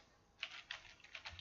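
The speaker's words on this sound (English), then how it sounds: "just type out the URL like this" Light clicks of a computer keyboard as a URL is typed, a quick irregular run of soft taps in a quiet room with no one speaking.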